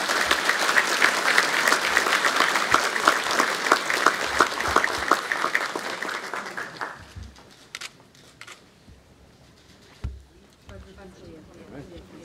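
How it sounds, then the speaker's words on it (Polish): Loud audience applause fills a hall at a Polish university's academic year inauguration ceremony, sustained clapping for about seven seconds before fading to scattered claps and quiet room noise. "Wielkie brawo."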